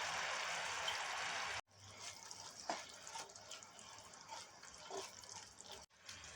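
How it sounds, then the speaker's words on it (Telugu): Milk pours into jaggery for flattened rice kheer, making a steady liquid stream that breaks off, then quieter trickles and soft splashes, faint and close, with no talk. "బెల్లంలో పాలు పోస్తున్నా అండి."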